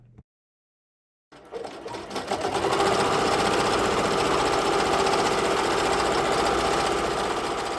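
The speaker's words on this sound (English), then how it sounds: "I try to put just a little bit of the embroidery sound in there for our ASMR lovers" A Ricoma EM-1010 embroidery machine stitching a patch, starting after a brief pause and settling into a loud, steady, rapid mechanical chatter of needle strokes that carries on without letup; no one talks over it.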